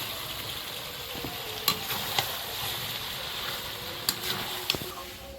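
Steady sizzling of fried potatoes added to meat cooking in its released fat in a pan, with a few sharp clinks and scrapes of stirring scattered through, no talking.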